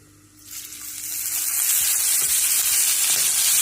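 Oil sizzles in a pan for green chana curry, starting quiet and rising within a second to a steady, loud, bright hiss that holds to the end, with a few faint clicks underneath.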